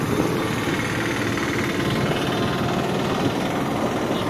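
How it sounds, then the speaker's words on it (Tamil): A steady engine drone from a vehicle being driven, a continuous mid-to-low rumble with constant loudness and no breaks, heard alone with no talk. "நான் வண்டி ஓட்டுறேன்"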